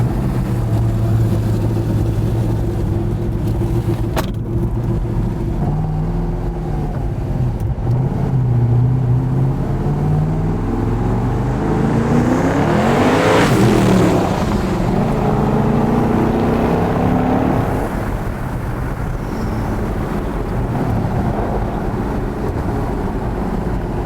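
Saleen S7 Twin Turbo Competition hypercar driving past with a loud, continuous engine roar that rises and sweeps through a strong acceleration near the middle, then settles back to a steady drone; no talk.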